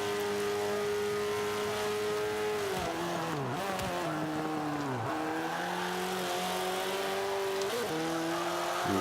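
A race car engine in Forza Motorsport 5 drones loudly and steadily at high revs, pulling in sixth gear, with the pitch dipping and climbing several times, close and constant throughout with no talking.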